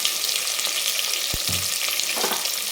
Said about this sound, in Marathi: आणि एकदम सोनेरी कलर येईपर्यंत आपल्याला याला परतून घ्यायचं हलक्या हाताने एकदम, जेणेकरून आपल्या बटाट्याला पण थोडासा सोनेरी कलर आला पाहिजे